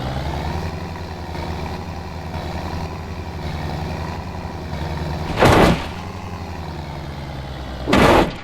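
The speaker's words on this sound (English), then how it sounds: "Tractor." Tractor engine idling steadily in the BeamNG Drive driving game, a constant low rumble throughout with two short, loud bursts of noise near the end.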